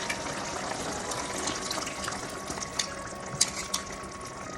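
Coconut milk pours steadily into a pan of mushroom and egg curry, a soft continuous liquid trickle with faint splashes and a few light clinks near the end.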